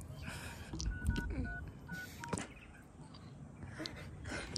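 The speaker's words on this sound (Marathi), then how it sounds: "पोलिसांना फोन करते" A telephone keypad dials a quick series of short, faint beeping tones over steady background noise.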